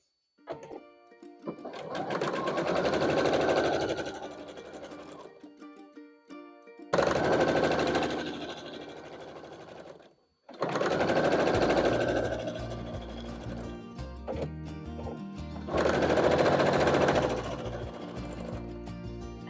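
Sewing machine stitching quilt block pieces together for a barn star quilt, with four sustained bursts of rapid, close, steady needle chatter lasting several seconds each, separated by brief pauses, and no talking.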